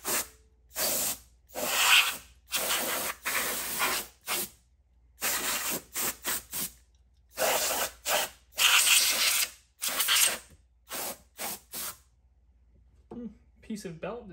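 Dust being blown out of a vintage Teac reel-to-reel player in repeated loud, close hissing blasts of air separated by brief silences, ending in a few softer noises.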